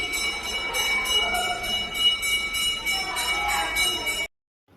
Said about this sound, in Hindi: जैसे ही मंदिर की घंटियाँ बजने लग गई